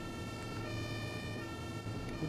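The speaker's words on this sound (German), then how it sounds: "Der Krankenwagen nervt." Ambulance siren in the bus simulator game OMSI 2, a steady wailing tone held at moderate volume over a low vehicle engine hum, with no talk.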